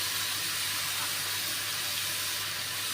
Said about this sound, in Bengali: রসুন বাটাটা দিয়ে দেবো, দিয়ে একটু ভাজা ভাজা হতে দেবো